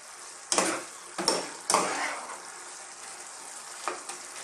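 A spoon stirs taro leaves and chicken simmering in coconut milk in a pot. Three distinct scraping strokes come close together early, then two softer ones near the end, over a faint, steady bubbling.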